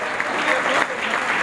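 Strong crowd applause at an anniversary event for radio announcers, honouring a veteran announcer; continuous, dense clapping with some crowd noise and voices mixed in.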